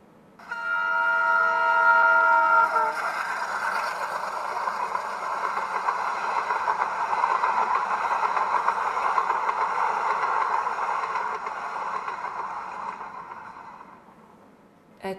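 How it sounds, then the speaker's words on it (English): A train sounds its horn, then rumbles steadily past on the rails with a continuous hissing roar that fades toward the end. "A train."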